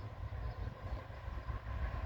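A train sound effect, a brief steady low rumble of rolling rail cars with a faint rhythmic clatter.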